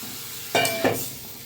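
Chopped bottle gourd tipped into a spice paste that has just finished frying, for a soybean and gourd curry, giving two short, close bursts of sizzling and stirring in an otherwise quiet pan.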